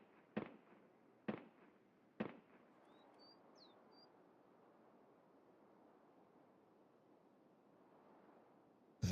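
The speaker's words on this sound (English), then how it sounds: "That SVD did not sound like Kaban snipers." SVD sniper rifle shots ring out in Escape from Tarkov. Three sharp, loud cracks come about a second apart, each trailing a long distant echo. Quiet ambient hiss and faint birdlike chirps follow, then another abrupt burst at the end.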